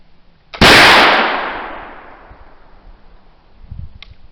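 A single loud flintlock gunshot fired at a long-distance target about 50 yards out, a sharp crack followed by a long fading boom, then quiet with faint handling noise.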